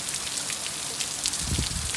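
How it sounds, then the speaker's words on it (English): Heavy, wind-driven rain pours down during Hurricane Zeta, a dense, continuous hiss of drops on surfaces close by, with a brief low gust rumbling near the end and no talking. "Look at that rain."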